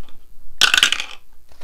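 Dice tumble and rattle across a tabletop in a quick, sharp burst of clattering clicks lasting about half a second, close and clear, with no voices.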